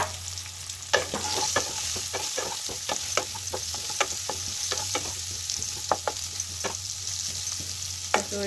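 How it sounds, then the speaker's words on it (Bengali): Turmeric-coated, half-boiled potatoes fry in hot oil over a high gas flame, with a steady, close sizzle and frequent sharp clicks and taps as they are stirred and shifted. "এবারে হলুদ মাখানো আলুগুলো ফ্রাই করার জন্য দিয়ে দিলাম তেলের মধ্যে।"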